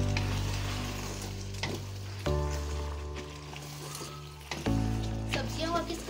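Boiled macaroni being stirred into frying chicken and vegetables in a pan: a steady close sizzle with scraping and stirring strokes, a couple of louder surges as the food shifts, with a low hum beneath.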